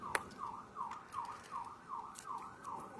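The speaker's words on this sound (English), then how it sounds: "Hear the siren." A wailing siren sweeps up and down in a steady repeating cycle, moderately distant, with faint background noise.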